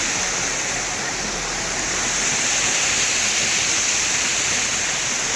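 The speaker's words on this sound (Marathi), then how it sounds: "आता आपण जाऊया तिकडं वॉटरफॉल मध्ये" A monsoon waterfall at Tamhini Ghat roars close by, a loud, steady, dense rushing wash of falling water that holds constant throughout with no voices.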